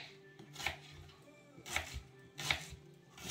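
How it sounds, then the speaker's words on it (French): A knife chops onions and peppers coarsely on a cutting board in a home kitchen, giving three sharp, close chopping strikes spaced about a second apart with quieter board taps between them. "Là, je coupe ça vraiment grossièrement, quoi."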